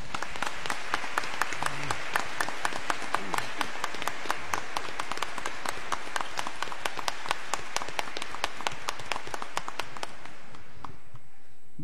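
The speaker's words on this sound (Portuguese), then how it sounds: "receba de todos nós a nossa salva de palmas." A church congregation at Mass breaks into warm applause of welcome for a priest, fast dense clapping with sharp individual claps standing out, holding steady for about ten seconds before stopping abruptly.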